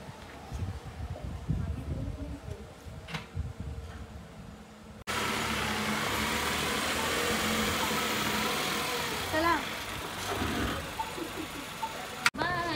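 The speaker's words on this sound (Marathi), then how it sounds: "भावाची गाडी मागे घेतात" A car is reversed with its engine running, giving a low, steady mid-pitched hum that grows louder and more constant partway through, with voices heard in the background.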